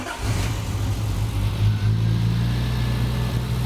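A Triumph TR6 engine, converted from carburettors to Patton Machine fuel injection, starts and settles into a steady, close, loud running drone with a deep, even hum and a slight rise in revs partway through.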